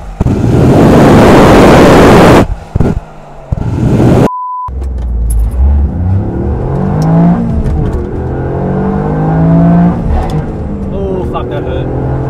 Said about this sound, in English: I think that's enough accelerating.